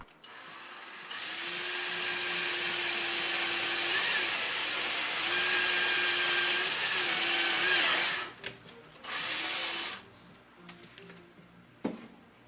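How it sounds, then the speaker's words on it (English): A power drill boring a 1/4 inch hole for an LED light in an Audi S3 cupholder, whirring in a long steady run close by, then stopping and starting in short bursts before falling quiet. "The next part, you'll need to drill a hole for your LED light."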